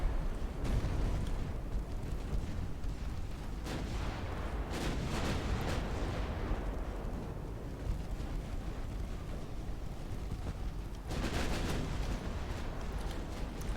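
Naval secondary guns fire in the warship battle game Ultimate Admiral Dreadnoughts, a dense, rumbling barrage of booming shots and blasts rolling continuously over a windy low roar, with a distinct burst of reports near the end.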